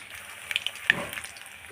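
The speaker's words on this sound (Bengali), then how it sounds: "আর মাছ বাঁধলে ভীষণ ফুটে এত শব্দ হয়" Aar fish fries in hot oil, spitting out a handful of sharp, irregular pops and spatters over a low, soft sizzle, close and brief.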